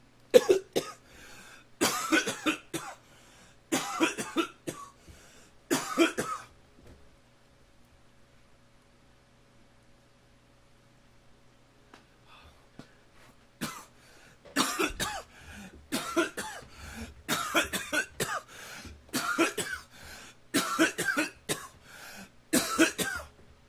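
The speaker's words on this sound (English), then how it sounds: "thought maybe breathing all that air in and out would have helped with the coughing, but not so much" Repeated harsh coughing fits in clusters, fairly close, separated by a long quiet stretch before another series of rapid coughs.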